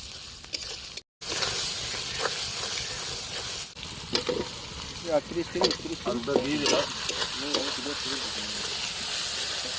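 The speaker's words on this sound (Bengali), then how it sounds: "আদা রসুন আর কাঁচা লঙ্কা কাঁচা লঙ্কা এটা একটুখানি ওই ইসের মধ্যে বেটে নিয়েছিলাম তো সেটা দিয়ে দিলাম" Ginger, garlic and green chilli paste sizzles loudly in hot oil at a riverside picnic, a steady close hiss with a brief dropout near the start and stirring scrapes, while a voice talks over the later part.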